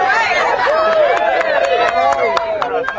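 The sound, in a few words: crowd cheering as the president gets up after falling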